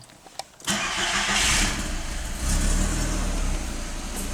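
A car engine cranks and catches after a brief quiet moment, then runs on at a steady, loud idle close by, with no talking over it.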